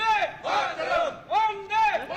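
Crowd celebrating outside Prasad Purohit's house on Law College Road in Pune, with loud massed shouting and cheering in repeated surging bursts, voices rising and falling together close by.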